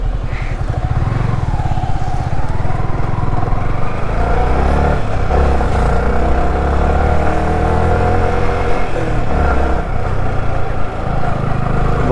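A motorcycle stuck on black ice on a mountain road near Bir Billing revs loudly and continuously, its engine droning close up with rising and falling throttle surges over the full stretch.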